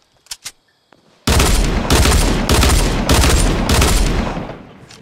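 Gunfire in Fortnite, a few quiet clicks and taps, then a loud, dense burst of rapid shots running almost without break for several seconds and easing off at the end.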